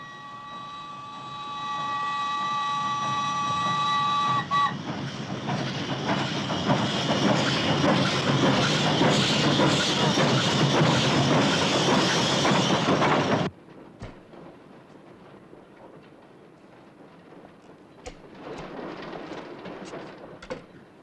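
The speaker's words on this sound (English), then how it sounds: "But, sir, Villa's train is on our track." A steam-era train rumbles along the track in a western about Pancho Villa, its loud clattering roar running for several seconds after a steady whistle-like tone, then cutting off into quieter background with a few sharp knocks.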